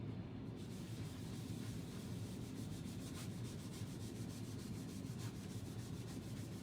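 Chalk being scrubbed off a chalkboard by hand, a steady, close abrasive rubbing with rhythmic strokes that continues without pause and with no voices.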